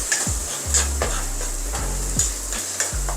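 Ginger, garlic and onion fry in a pan with garam masala added, a steady sizzle broken by repeated scraping stirs of a spoon.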